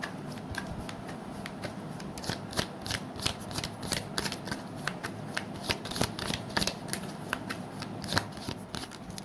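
Tarot cards are shuffled up close in quick, crisp riffles and flicks, a rapid run of papery snaps and soft slaps that continues throughout at a quiet level.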